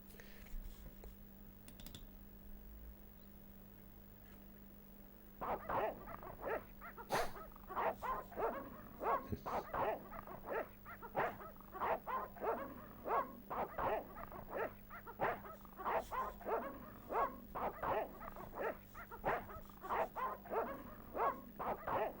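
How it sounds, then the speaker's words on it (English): Dogs bark repeatedly in the PS1 adventure game Broken Sword, a steady run of sharp, loud barks and yips that starts a few seconds in and continues without pause over a low background hum. "I don't think we have any items that we could use against the dogs."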